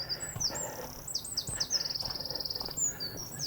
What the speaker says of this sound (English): The birds singing there.